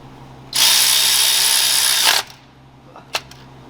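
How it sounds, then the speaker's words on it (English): Power ratchet tightening bolts during a TorqStorm supercharger install on a 4th gen RAM, a loud high-pitched whirring burst of about one and a half seconds, then a couple of short clicks. "to have little guy here tighten them up with the ratchet"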